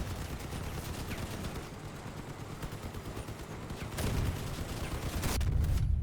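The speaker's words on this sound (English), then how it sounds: "Just keep shooting. Keep shooting." Sustained vehicle-mounted weapon fire from a Crossout battle, a dense continuous barrage of rapid shots with heavier blasts near the end, loud and close throughout.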